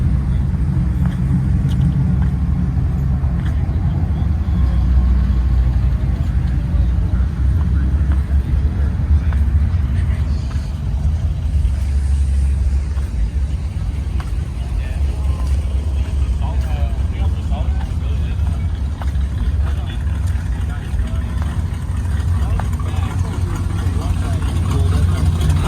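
Muscle cars rolling into a large rally give a steady, deep engine rumble throughout, with idling and low revving close by and voices mixed in.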